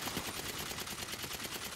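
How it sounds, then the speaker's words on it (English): A submachine gun in GTA 5 fires one unbroken, rapid burst, a dense stream of rattling shots that stays loud and even the whole time. "I fucking love this little SMG or whatever the fuck this thing is"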